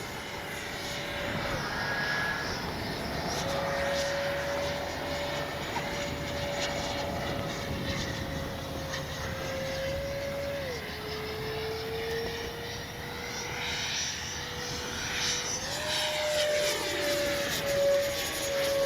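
A Freewing 90mm J-10 RC jet flies overhead with a continuous ducted-fan whine whose pitch shifts as it turns and passes, loud and sustained throughout; no talking.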